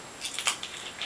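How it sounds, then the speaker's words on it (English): Scissors snip around the ragged edges of recycled puppet material, a handful of short, close, crisp cuts spaced irregularly over a quiet background. "you're going to want to trim it because it's a little raggedy"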